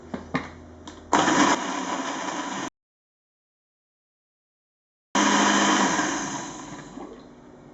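A kitchen blender whirs through basil, lemon juice and cream in two loud bursts, the first after a few clicks and lasting about a second and a half, then a pause of silence before the motor roars again and slowly winds down.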